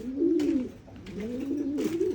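Pigeons, including two YB birds set to hatch eggs, coo in a loft with repeated low, rolling calls that swell and fade in three close phrases, with no talk over them.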